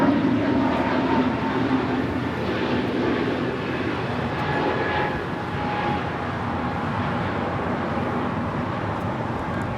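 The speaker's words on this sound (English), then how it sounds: "This is Avianca 523 taking off to San Salvador on an A320 Neo" Avianca Airbus A320neo taking off from Los Angeles International Airport for San Salvador, a loud sustained jet engine roar with a steady rumble, slightly easing through the clip, with no talking.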